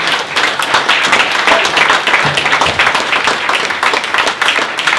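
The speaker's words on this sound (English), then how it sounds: "if you could start the applause at the back, bring it all the way through the room as we welcome the lovely Steve Gear." Continuous, dense applause from a crowd at a brewery opening night, steady and loud from start to finish with no voices over it.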